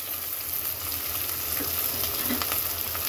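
Potatoes, green chillies and eggplant frying in oil in a pan, a steady dense sizzle that holds close and even throughout with no voices.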